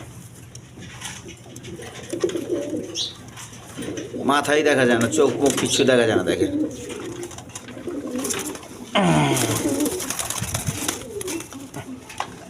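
Satin pigeons of various colours coo in low, throaty rolling bursts, two strong stretches standing out near the middle and later, while someone talks over them almost the whole time.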